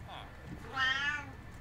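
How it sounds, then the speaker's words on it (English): A single drawn-out cat meow in Minecraft, eerie and rising, heard clearly over faint background noise. "Oh God, that was a scary meow"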